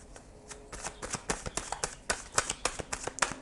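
Tarot cards being shuffled for a three-card reading, a rapid run of crisp, close papery riffles and flicks with no talking.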